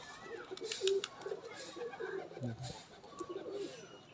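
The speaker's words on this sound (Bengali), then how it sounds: "দেখুন পায়রাগুলো উঠছে" Pigeons from a high-flying pigeon loft in a home yard in Uluberia, Howrah, coo softly in a few short, low calls against a background of faint chatter and ambient noise, with no clear wingbeats of takeoff standing out.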